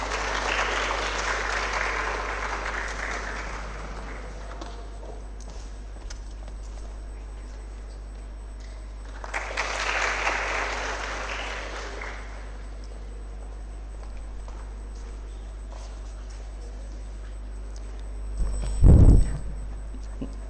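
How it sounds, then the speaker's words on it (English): Audience applause breaks out at an MBBS orientation day ceremony, two broad bursts of clapping from a seated crowd rising and fading, separated by a quieter stretch, with a low hum underneath and a sharp thump near the end. "Let's all give a round of applause."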